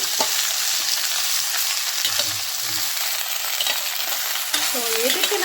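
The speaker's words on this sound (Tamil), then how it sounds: "வெண்டைக்காய் போட்டாச்சு இப்போ லைட்டாக ஃப்ரை பண்ணிடுறோம்" Okra frying lightly in oil for Tamil-style bhindi masala gives a steady, close sizzle that runs the whole time, with occasional soft scrapes and clinks of stirring.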